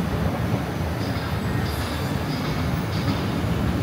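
Bangkok's BTS Skytrain at a station: a steady, loud rumble of the train running and wheels rolling, with a faint high squeal now and then.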